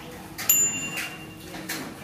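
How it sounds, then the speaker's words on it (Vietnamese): Handlebar bell on a Giant ATX830 mountain bike gives a single bright, ringing ding that lingers briefly over a quiet indoor background, followed by faint clicks. "Sẽ có cái chuông"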